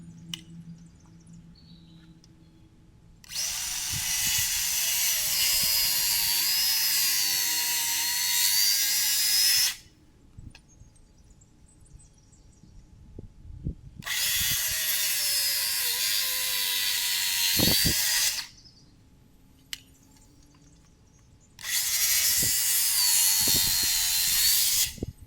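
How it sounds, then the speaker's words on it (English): A power saw cutting wooden posts for a solar build, three long loud whining cuts of several seconds each, separated by quiet pauses with faint knocks, no speech. "I'm just cutting down the post to where I want them,"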